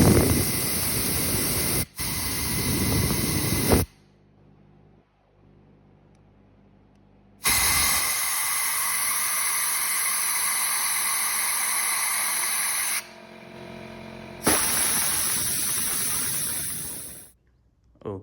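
Carburetor cleaner hisses from an aerosol can onto the carburetor of a 1998 Honda CR250 dirt bike, in several loud sustained bursts broken by short pauses.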